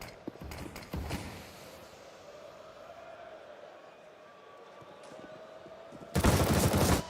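Bursts of automatic rifle fire in a Counter-Strike match, a couple of sharp volleys at the start and a dense, loud spray at the end, with a quieter stretch of game ambience between.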